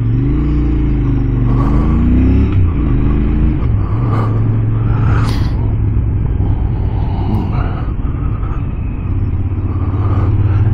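A 2023 Royal Enfield Interceptor 650 twin is ridden on the road, its loud, close engine rumbling and rising through revs with gear changes, wind and road noise blending in underneath.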